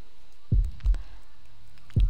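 Video game heartbeat, deep low thumps in a slow double-beat rhythm, close and clear against a quiet background hum.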